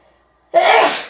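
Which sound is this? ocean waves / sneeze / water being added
sneeze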